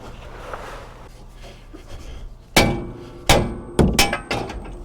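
After some low background noise, four sharp hammer blows ring out on the steering linkage of a 2017 Ford F350 4x4, the later ones coming quicker with a slight metallic ring.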